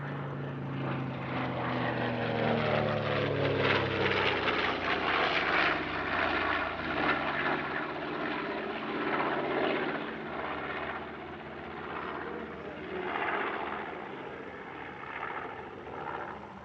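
The piston engines of a B-25 bomber drone at an airshow at Villaroche near Paris. The propeller rumble is steady and loud and sweeps slowly in pitch as the plane passes, with no talk.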